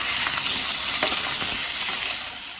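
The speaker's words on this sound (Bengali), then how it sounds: "তো এখানে হচ্ছে আমি মাছগুলো ভেজে নিচ্ছি।" Pieces of rohu fish frying in hot oil in a pan give off a loud, steady, close sizzle with a bright hiss throughout.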